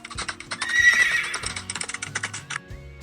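A horse gives one long, loud whinny near the start, followed by a busy patter of hoofbeats clip-clopping close by.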